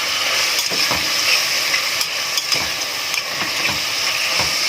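Meat sizzles loudly in a hot pan while being stirred, steady frying hiss broken by repeated scraping strokes of the utensil, close up and without talk.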